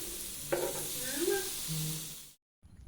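Tofu tikka pieces sizzle steadily in a hot pan, a close, continuous frying hiss with brief stirring scrapes, cutting out near the end before resuming.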